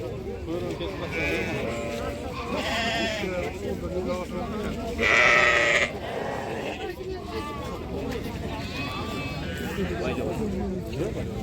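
Sheep and lambs bleating at a crowded livestock bazaar in Kazakhstan, repeated calls from several animals mixed with constant crowd chatter, one louder bleat standing out near the middle.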